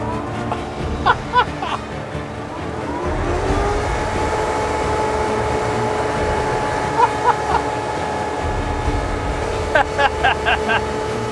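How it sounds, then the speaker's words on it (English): A Sherp amphibious 4x4 drives into lake water, its engine droning steadily and loud under bursts of splashing and clattering, with a person talking over it. "I'm driving into a lake in a car."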